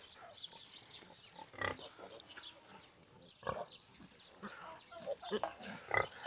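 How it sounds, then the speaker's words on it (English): Pigs and piglets on a southern Arizona homestead, with grunts and oinks from several animals nearby in bursts over soft outdoor background, along with some talking. "Look at all those piglets over there."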